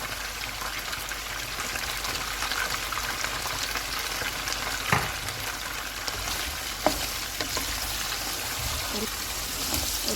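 Chicken frying in oil with ginger garlic paste in a karahi gives a steady, dense sizzle throughout, with occasional stirring clinks and scrapes close by.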